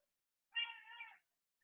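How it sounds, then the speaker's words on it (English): A single drawn-out cat meow, clear and fairly near, followed by a very brief faint chirp in otherwise quiet surroundings. "apologies if you can hear my cat yelling"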